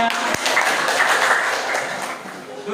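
A classroom of students applauds together during an Islamic jurisprudence lesson, a dense, steady burst of many hands clapping close by for a couple of seconds.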